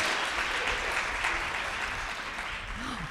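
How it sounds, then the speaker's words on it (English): Steady, fairly faint applause from an audience honoring a baritone at a commemorative event, a continuous wash of clapping that tapers slightly toward the end. "let's clap it up for our baritone"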